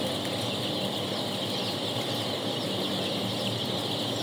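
A crowd of young chicks inside a poultry chick house, their dense overlapping peeping filling the space as a constant faint wash of sound, with no one speaking.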